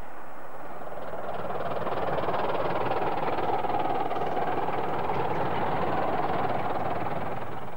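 A miniature steam locomotive on the Romney Hythe and Dymchurch Railway chuffs and rumbles steadily at moderate distance, a dense rhythmic churning that holds level throughout.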